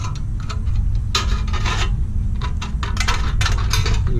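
Hand snips chew through metal roofing panel in a close series of crisp, scraping crunches with irregular rhythm, each cut a short rasping burst of sheet metal.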